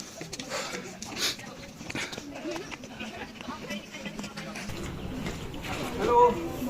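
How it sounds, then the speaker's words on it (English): A dog trailing a group of hikers outdoors whimpers and yips faintly amid the sounds of footsteps and rustling, while people talk throughout. "This dog is following us right from the beginning"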